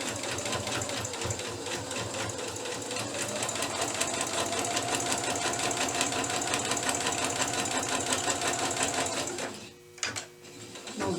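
Sewing machine stitching a seam for paper piecing, a rapid steady mechanical chatter close up that runs evenly, then slows and stops near the end with a couple of brief bursts.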